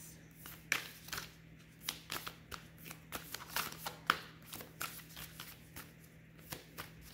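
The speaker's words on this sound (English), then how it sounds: "Get another shuffle." Tarot cards being shuffled close by, a steady run of crisp riffling bursts and soft slaps over a faint constant hum, with no talking.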